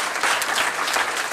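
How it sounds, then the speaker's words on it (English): An audience claps loudly and steadily after a panel discussion on AI and human creativity, a dense, continuous wash of applause with no voices over it. "Please give them a warm round of applause for the discussion."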